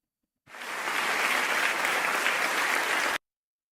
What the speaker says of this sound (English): Guys, do you hear applause when I press this?